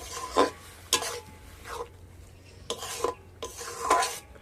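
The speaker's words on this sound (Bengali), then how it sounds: "চিংড়ি শাকটা দিয়ে আমি এইভাবে একটু নাড়াচাড়া করে নিয়েছি" Chikni shak greens being stirred in a cooking pot, giving several separate bursts of scraping and rustling spaced about a second apart, with faint sizzling between them and no talk.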